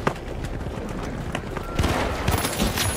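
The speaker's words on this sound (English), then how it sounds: "Oh, he's sniping me. He's sniping me." Gunfire in a first-person shooter video game crackles throughout, a dense run of shots that grows louder and heavier in the second half, with sniper fire in the exchange.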